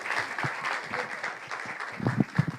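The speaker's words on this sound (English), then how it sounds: "big round of applause for these two remarkable leaders" An audience at a women's wealth symposium applauds, a dense patter of clapping with a few louder hand claps near the end.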